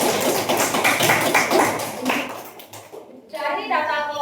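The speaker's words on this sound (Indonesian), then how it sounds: "Tepuk tangan buat Mas Alfa." A small classroom audience claps for a presenting student during a teacher certification session, a dense burst of hand claps under overlapping speech that thins out after a few seconds.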